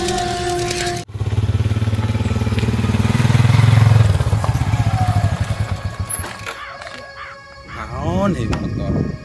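A stalled motorcycle's engine runs loudly and steadily at close range for several seconds, then sputters and fades before a rougher revving burst, with people talking over it.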